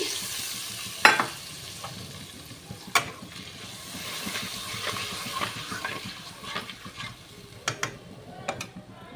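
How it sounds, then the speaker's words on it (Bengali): A spice mix of cumin, ginger and green chili sizzles and fries in a pan while being stirred, a steady close crackle with occasional scraping clinks of the utensil, no talk. "বাটিটার ভেতরে একটু মশলা করে রেখেছিলাম একটু জিরে আদা আর কাঁচা লঙ্কা আমি সেই মশলাটাকে দিয়ে দিচ্ছি"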